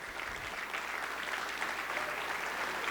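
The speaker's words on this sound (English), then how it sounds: "A round of applause for all my young friends" Applause from a seated audience at a conference session, a continuous wash of many hands clapping at a fairly distant, even level for the whole stretch.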